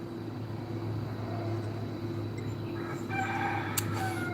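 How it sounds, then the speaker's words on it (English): Several roosters crow outdoors at a distance, their calls faint and partly buried under a steady low hum and background noise, with a brighter burst near the end. "there's a lot of roosters here"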